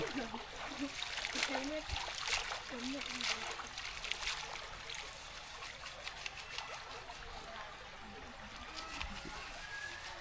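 Water splashing and trickling outdoors in a rural Lao village as women wash bowls and bathe, soft irregular splashes under a voice talking throughout, fairly faint and distant.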